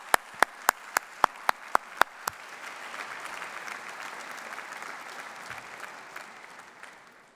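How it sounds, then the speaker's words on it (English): A graduation ceremony audience breaks into applause, opening with a few sharp, spaced claps and swelling into a steady, dense round of clapping from a large hall crowd that carries on without talk. "Graduands, please join me in a round of applause to thank all those people"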